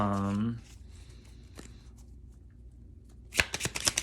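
Playing cards shuffled near the close, a quick burst of crisp riffling flutters after a voice fades and a quiet stretch.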